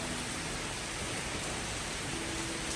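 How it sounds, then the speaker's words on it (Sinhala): Steady rain pours down in a rainy season, a dense, even hiss on surfaces that fills the whole moment without a break, close and fairly loud, with no voices. "වහිනවා"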